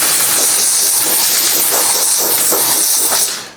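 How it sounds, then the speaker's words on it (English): Steady broadband hiss of steam from a steamer used with distilled-water tack solution while fitting paint protection film on a large van, loud and close, with faint pulsing, cutting off at the end. "This is distilled water going in the hole with a bit of steam and a bit of heat."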